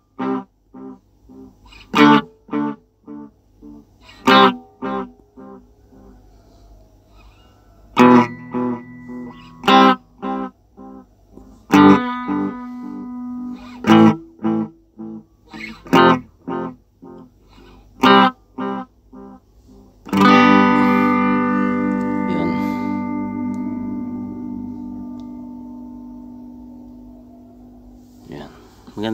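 A Blackstar guitar amp with its tap delay on: short plucked notes and chords ring out with echoing repeats, then cut off abruptly, before a long strummed chord trails away slowly.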